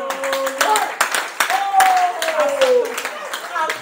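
A church congregation claps and cheers to acclaim the Lord, loud mixed hand claps under shouting voices and a preacher calling out over them.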